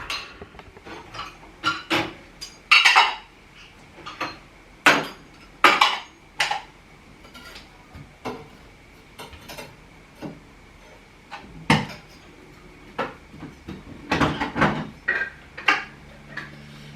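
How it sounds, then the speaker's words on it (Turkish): Dishes being washed: pots, plates and cutlery clink and clatter in irregular bursts, close by, with quiet gaps between. "Ben de bulaşıklarımı halledeyim o sırada."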